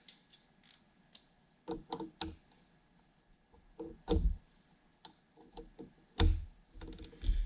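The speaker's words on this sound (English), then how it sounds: "tighten the nuts onto each other, and then just twist it in like that" Two wrenches tighten a double nut on a YZ85 engine stud, giving scattered close metallic clicks and ratcheting clacks in short irregular bursts separated by quiet, with no talk.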